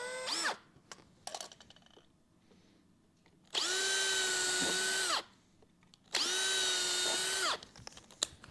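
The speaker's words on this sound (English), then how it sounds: "I think I'm actually going to run a pilot hole in there." A power drill bores a pilot hole for a garage door opener bracket. A brief spin-up is followed by two sustained, loud, steady whining runs of about a second and a half each, separated by quiet pauses with small handling knocks.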